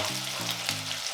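Potatoes frying for githeri while being stirred, a brief close, steady sizzle with a low humming tone underneath.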